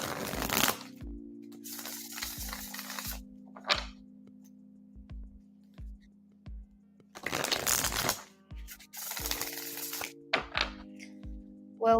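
Tarot cards being shuffled in several crisp, riffling bursts during a reading, with soft taps and thunks between them over a quiet, low musical hum.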